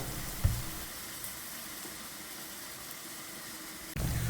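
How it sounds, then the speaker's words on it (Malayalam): Onions frying in a pan for a Kerala potato masala curry, a faint steady sizzle heard alone, with a soft utensil knock near the start and a louder clatter of movement near the end. "ഉള്ളിയും സവാളയൊക്കെ ഇപ്പോൾ നന്നായിട്ട് വഴന്ന് വന്നിട്ടുണ്ട്"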